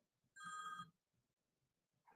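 A single burst of outgoing phone ringing tone sounds while calling someone back, bright and clear, followed by a quiet pause and the start of another ring.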